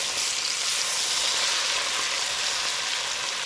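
Food frying in butter in a pan, five minutes per side, giving a steady, dense sizzle and crackle that stays loud and even throughout, with no talking over it.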